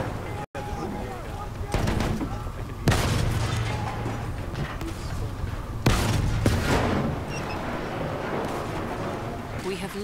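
An anti-aircraft gun fires in a Battlefield 1 battle, with repeated heavy booming bursts over constant rumbling combat noise and a player talking throughout.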